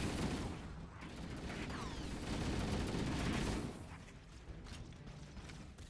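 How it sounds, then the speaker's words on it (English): Sustained enemy gunfire in a Halo match, a dense rattling barrage that stays loud for about three and a half seconds before easing to a thinner, scattered crackle. "They hella firing at me."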